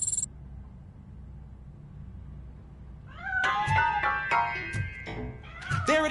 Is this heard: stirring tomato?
no